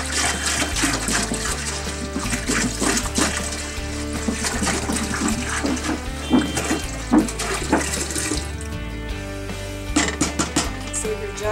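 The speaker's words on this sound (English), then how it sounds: "We're going to pour the whole gallon in." A gallon of apple cider is poured into a cooking pot for Pennsylvania coal region boilo, giving a continuous splashing, gurgling stream with a few sharp clunks of the jug, close and steady.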